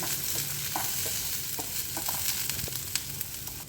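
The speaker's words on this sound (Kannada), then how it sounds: "ಈಗ ಅರ್ಧ ಸ್ಪೂನಷ್ಟು ಮೆಣಸನ್ನು ಹಾಕೊತ ಈಗ ಬಿಡ್ಸಿಟ್ಟಿರೋ ಒಂದು ಗಿಡ ಬೆಳ್ಳುಳ್ಳಿಯನ್ನು ಸಹ ಇದಕ್ಕೆ ಸೇರಿಸ್ಕೊಂಡು ಒಂದು ಎರಡು ನಿಮಿಷಗಳ ಕಾಲ ಇದನ್ನು ಹುರ್ಕೊಳ್ಳೋಣ" Black pepper and garlic fry in a pan for a horse gram rasam, a steady close sizzle with soft stirring clicks and scrapes scattered throughout.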